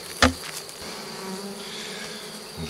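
Honeybees drone inside an opened buzzing hive under rescue, a steady low hum from many insects with a sharp close knock or click near the start.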